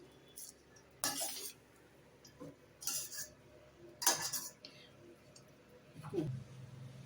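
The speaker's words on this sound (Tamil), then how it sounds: "இப்போ இதை நல்லா கலரிடலாம்" Lemon rice being mixed in a pan, giving several bursts of scraping and clinking from a metal spoon against the cookware, close and fairly quiet, with a low thud near the end and no talk.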